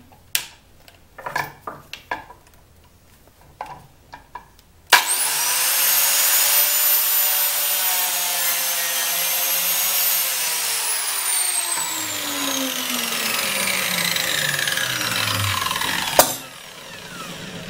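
Faint knocks and taps give way to a loud, steady whining whir from an Einhell TC-BJ 900 biscuit joiner that runs for about ten seconds, then cuts off abruptly.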